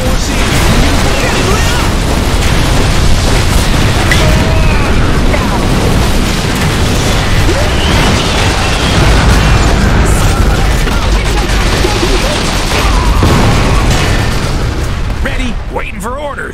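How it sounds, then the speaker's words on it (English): Artillery barrage in the dieselpunk strategy game Iron Harvest, a dense, continuous roar of overlapping explosions and booms at high volume throughout, with unit voice lines heard over the battle din. "Artillery opening up! Fire!"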